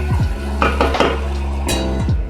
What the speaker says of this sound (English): a little bit of a stir